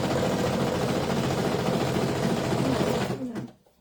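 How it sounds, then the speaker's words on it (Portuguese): Embroidery sewing machine stitching an in-the-hoop Easter bunny basket, a steady loud mechanical whirr running close and unbroken for about three seconds before winding down and stopping. "Outra etapa pra costurar."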